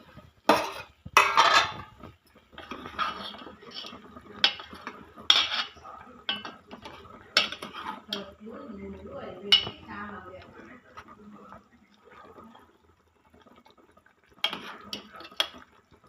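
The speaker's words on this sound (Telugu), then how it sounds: "మళ్ళీ ఇంకోసారి చూద్దాము మూత తీసి ఉడికిందో లేదో" Steel pots and utensils clink and clatter in scattered bursts as a lid comes off a simmering pulusu curry of cucumber, egg and drumsticks, with a person talking between the knocks.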